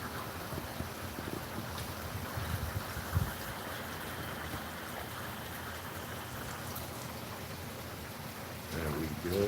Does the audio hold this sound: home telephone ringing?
no